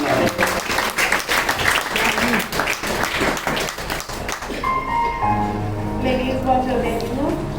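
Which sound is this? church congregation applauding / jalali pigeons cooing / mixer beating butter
church congregation applauding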